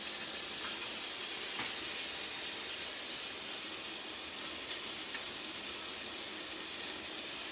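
Onion and mushroom sizzle steadily in a hot pan at a home cooking session, a continuous hiss and steam with no pauses, close and even throughout.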